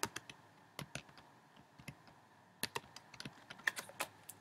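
Rapid, light clacking of computer keyboard keys during an online typing race game, irregular bursts of keystrokes heard close and fairly quiet with no talk.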